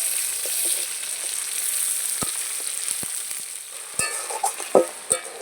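Chopped onions frying in a pan with a continuous bright sizzle, punctuated by a few sharp pops and spatters that grow louder toward the end.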